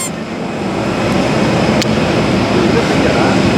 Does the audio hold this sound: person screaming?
no